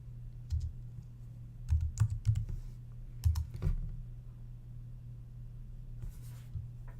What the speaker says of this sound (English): people search Pubmed by typing in all the search terms into the search box